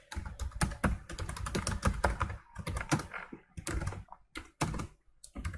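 Quick keystrokes clatter on a computer keyboard while C/C++ code is typed, close and crisp in fast irregular bursts separated by short pauses.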